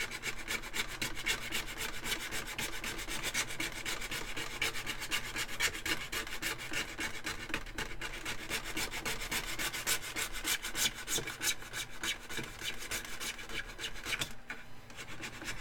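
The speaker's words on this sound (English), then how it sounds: "trying not to scrape this across the table" Continuous dense scraping and rubbing of an object dragged across a table during a glass construct build, steady and close with a gritty, sanding-like texture throughout and no talk.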